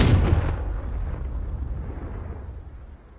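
A Confringo blasting spell from Hogwarts Legacy bursts with one loud, close explosion that begins sharply at the start, then rumbles and decays over about three seconds. No voices accompany it.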